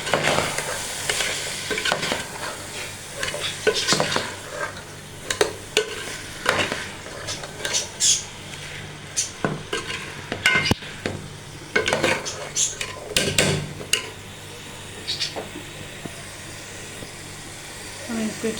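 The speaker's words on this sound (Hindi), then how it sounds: "हम इसको अच्छी तरह से फ्राई करते थोड़ी देर के लिए" Chicken and capsicum stir-frying in a pan, a sizzle broken by repeated spatula scrapes and knocks in an irregular rhythm, with a person talking intermittently over it.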